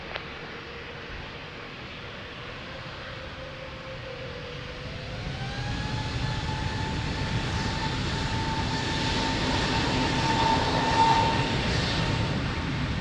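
Airliner taking off from runway 02 at Lisbon Airport, a steady jet engine roar with a rising whine that swells louder and brighter as the aircraft accelerates, heard from a distance with no talking.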